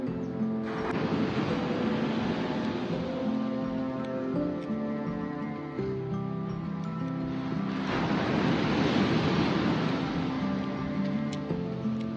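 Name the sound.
sea waves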